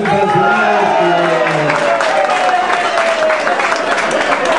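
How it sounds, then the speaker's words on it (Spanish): Audience applause for sanctioned members at a Peruvian Guardia Civil ceremony, a steady wash of clapping mixed with crowd murmur and a voice talking over it, near and loud throughout. "un aplauso para todos esos sancionados"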